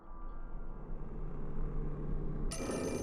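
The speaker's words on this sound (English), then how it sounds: "Oh, surprise, phone." A telephone rings in the Wii horror game Fatal Frame 4, a faint ring over a low droning ambient hum. A brighter, louder tone cuts in near the end, and nobody speaks.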